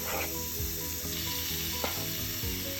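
Kebab meat sizzles loudly on a hot griddle plate, a constant crackling hiss with a few soft scraping knocks as pieces are laid down, and no talking.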